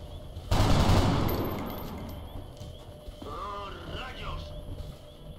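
A sudden loud burst of gunfire fire from the XCOM Long War video game erupts, then decays into a rumbling tail, followed by quieter game sounds while someone talks.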